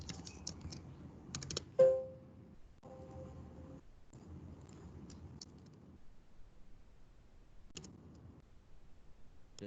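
Quick bursts of keystrokes on a computer keyboard, clicking in short irregular runs separated by brief pauses, with one sharper tap standing out; close and fairly quiet.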